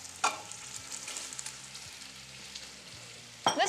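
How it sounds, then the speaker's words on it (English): Chopped onion with red and green bell pepper browning in a pan, a steady soft sizzle with a sharper clatter near the start and another near the end, no talking. "The last thing you're going to add while you're browning your vegetables"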